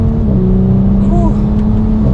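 A 2019 Audi S4 Premium Plus sedan in manual dynamic mode accelerates under light throttle, its engine a steady, fairly subdued drone heard from inside the cabin, rising slightly in pitch as it pulls.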